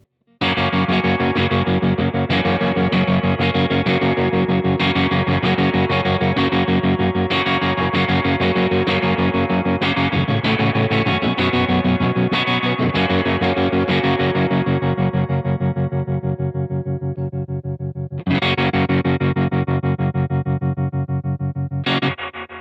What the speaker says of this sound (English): the tremolo is now before the reverb, so the reverb isn't getting chopped